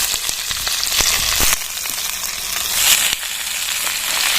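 Garlic and onions frying in a hot pan for an egg and potato mash, a steady loud sizzle with a few sharp crackles and stirring clicks throughout.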